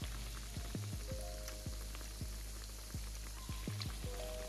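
Salmon croquettes (salmon patties) fry in a pan with a steady close sizzle, broken by scattered sharp pops and crackles throughout.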